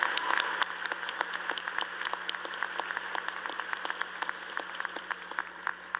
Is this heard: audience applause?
yes